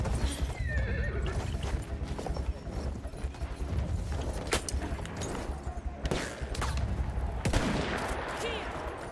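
A horse in the World War I shooter Battlefield 1 gallops with rapid clip-clop hoofbeats and lets out loud whinnies, amid bursts of gunfire and scattered shots in a busy battle soundscape.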